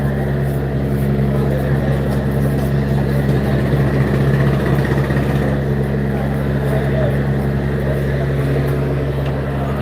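A passenger launch idles at the Sadarghat river port in Dhaka, a steady low engine drone that runs unbroken through the whole stretch, with a busy crowd murmuring beneath it.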